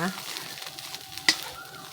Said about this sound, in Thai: ผัดไข่หัวจิโป๊